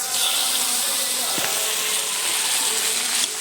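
Shrimp dropped into a pan of fried ginger and garlic, giving a steady broadband sizzle and hiss that holds throughout, with a brief clatter midway.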